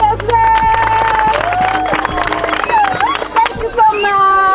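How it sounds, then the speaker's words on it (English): A group in a Ugandan refugee settlement claps for themselves, with a steady patter of hand claps and cheering running beneath lively voices and shouts that carry over it. "Clap for yourself."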